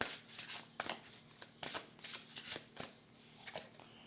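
Tarot cards shuffled by hand, a quiet, close series of quick riffling and flapping bursts in an uneven rhythm, with a faint low hum underneath.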